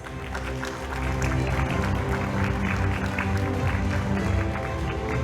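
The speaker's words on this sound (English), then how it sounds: "let's give them a warm round of applause" Steady, dense applause from an audience at a university prize award ceremony, swelling after the first second and holding at an even level throughout with no pauses.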